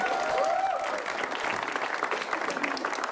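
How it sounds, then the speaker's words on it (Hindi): Studio audience at a comedy roast show clapping for Haseeb Khan, a brief burst of steady applause lasting a few seconds. "एक बार उनके लिए तालियां हो जाए।"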